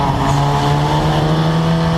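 Historic Formula Ford race cars at Snetterton in 2014 make a loud, continuous engine drone with a steady pitch throughout, close and sustained.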